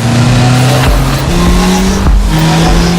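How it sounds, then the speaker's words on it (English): A Polaris Slingshot with a 2.4-liter dual overhead cam engine and 5-speed manual transmission roars steadily while driving, its engine pitch stepping between gears in a loud, continuous drone. "That puts you and your passenger in the front row for a 360-degree rush of engine roar"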